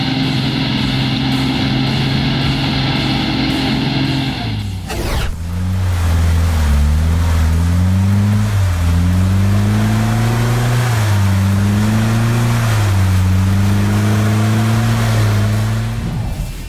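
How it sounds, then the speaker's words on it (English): An off-road truck at a Bounty Hole competition in Guyana roars through a deep, water-filled trench. Its engine revs hard and the pitch rises and falls as it surges. A loud splash of water bursts in partway through, and the engine keeps straining afterward. "blast through a deep, water-filled trench as fast and as far as possible"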